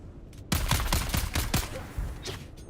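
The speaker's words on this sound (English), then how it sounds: "Who's shooting me?" Rapid bursts of gunfire in the survival game Dune Awakening, a loud rattling volley of close shots for about a second followed by further shots and game noise.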